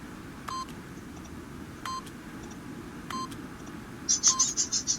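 Keypad buttons beep in The Stanley Parable, three separate short tones spaced about a second and a half apart, then a quick run of brighter beeps at the end over a low background hum.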